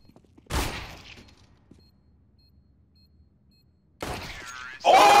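Gunfire in a video game: a sharp burst of shots rings out, then a quiet stretch, followed by a second loud burst near the end, with a brief excited voice.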